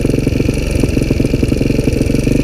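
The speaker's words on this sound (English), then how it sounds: "the engine's behaving a little strange, and probably because of that stupid Champion spark plug" A Honda Fourtrax TRX250 ATV engine, fire-damaged and repaired, with a Champion spark plug, runs partially on choke with a loud, close, steady chugging putter and a slightly uneven pulse.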